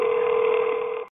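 A telephone line gives one steady electronic tone for about a second and then cuts off abruptly as an emergency call is put through to the ambulance service.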